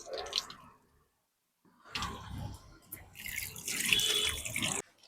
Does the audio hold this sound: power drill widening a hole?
no